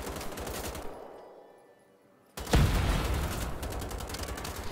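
Rifle fire in the shooter game Wolfenstein: The Old Blood: a rattling burst of shots, a brief lull, then a loud blast followed by sustained rapid gunfire and echoing impacts.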